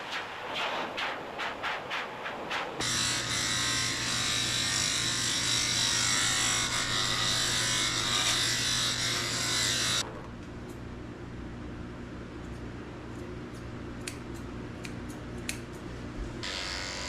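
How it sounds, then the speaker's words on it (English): Electric dog clippers with a 40 blade shave the paw pads of a Bichon-Poodle mix. A steady close buzz runs for about seven seconds, then drops to quieter background noise with light clicks, with no talk. "I'm shaving the pads of her feet out with a 40 blade."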